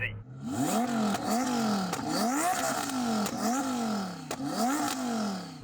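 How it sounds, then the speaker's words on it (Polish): Audi R8 engine revved repeatedly, a series of about six sharp rising-then-falling revs in steady rhythm, loud and close. "Posłuchajmy twojego Audi R8."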